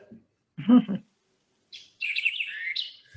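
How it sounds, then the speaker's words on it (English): Recorded bird call of the species remembered by the phrase 'quick, give me the beer check', played through a speaker: a bright, rising and falling run of high chirping notes after a short lower murmur, moderately loud with quiet gaps. "the phrase that we use to remember its call is quick, give me the beer check"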